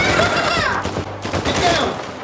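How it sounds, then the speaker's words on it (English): Gunfire rattles through an Uncharted 4 action sequence, dense bursts of shots layered under excited, overlapping voices, loud and close throughout. "They're shooting!"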